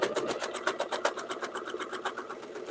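A sewing machine hums with a fast, even needle rhythm while stitching a quilt border design, close and steady throughout with no talking.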